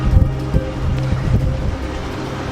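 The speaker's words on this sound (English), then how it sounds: "Extreme wind gusts right now, expected to get upwards of 70 kilometers an hour tonight." Extreme winter storm gusts near 70 km/h roar across open ground just south of Highway 46 outside Pilot Butte, Saskatchewan; a loud, steady buffeting rumble swells in uneven surges with no talk over it.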